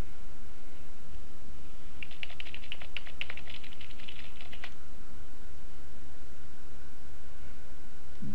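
Rapid keyboard typing, a quick burst of keystrokes lasting a couple of seconds over a steady background hiss, no voices.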